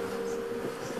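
Bees around a hive under attack hum in a steady, close droning buzz that holds without a break.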